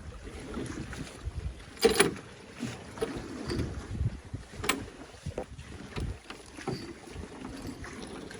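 Strong wind buffets a microphone while a sailboat jib is rigged on an AMF Alcort Puffer, with irregular gusty rumbles, flapping and rattling bursts of fabric and rigging close by.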